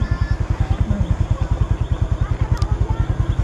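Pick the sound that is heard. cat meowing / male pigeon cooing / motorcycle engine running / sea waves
motorcycle engine running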